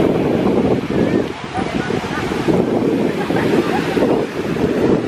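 Loud rushing surf and gusting wind buffeting the microphone at Ciliwung Beach, a dense continuous roar without clear breaks.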